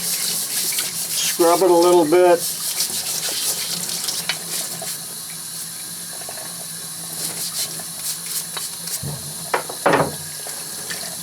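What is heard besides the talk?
hot water running from sink tap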